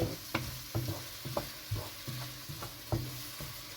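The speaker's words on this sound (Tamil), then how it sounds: "தக்காளி ஊற்றிருக்கேன் இல்லையா தக்காளியோட பச்சை வாசனை நல்லா போயிடணும் போனதுக்கப்புறம் அது வரைக்கும் கொஞ்சம் வதங்கட்டும்" Tomatoes saute in a pan for Chettinad pepper chicken, a low sizzle broken by regular tapping and scraping strokes of a spoon stirring, about one every half second, close and fairly quiet.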